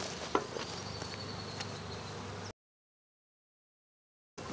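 Honey bees hum in a low, steady drone during a hive inspection, with a brief sharp tap near the start before the sound cuts out to silence and returns faintly at the end.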